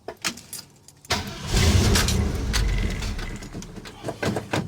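A 1966 Ford Thunderbird's FE390 V8 cranks and catches after a water pump replacement, a short clatter giving way to a loud, rough idle that holds and then fades. It sounds close by, with no one talking.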